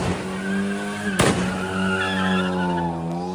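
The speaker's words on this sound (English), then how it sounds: "they're letting this guy peel out in the street. He's peeling out all over the street." A car peels out on a city street with a crowd and police nearby. Its tires give a sustained, wavering squeal over a rumbling engine, and a sharp bang-like burst cuts in just after one second.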